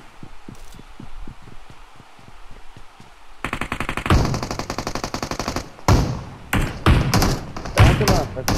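Rapid automatic bursts from the ASM AR assault rifle in BGMI, loud and close, firing in long rhythmic strings with short pauses and a few heavier single thumps, following quieter rapid tapping at the start.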